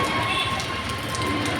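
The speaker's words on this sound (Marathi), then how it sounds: "पाऊस चालूच आहे, एकदम पाऊस चालूच आहे" Rain falls steadily as a dense, even hiss with no gaps across a short stretch, moderately loud and close.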